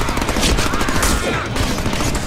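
Dense, loud rapid gunfire from the Deadpool video game, with overlapping bursts rattling close and continuously throughout.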